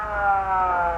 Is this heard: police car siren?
yes